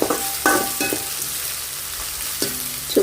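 Onions, cinnamon and chillies sizzle in hot oil with mustard seeds and urad dal, and a spoon scrapes and stirs the pan in several short bursts over a steady close frying hiss.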